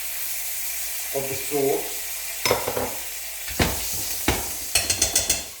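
A knob of butter added to hot olive oil in a pan for spicy meatball pasta sizzles and spits, with a brief voice and sharp clinks of utensils against the pan breaking through.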